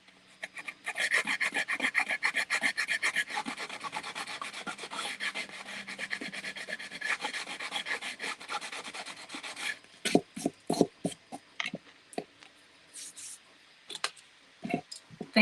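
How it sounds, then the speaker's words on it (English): Sandpaper rubs back and forth on a wooden patriotic craft in a long, close run of rapid rasping strokes, followed by slower, separate scrapes with short pauses between them. "I think I'm going to take my sandpaper so I can try and get in here a little bit better."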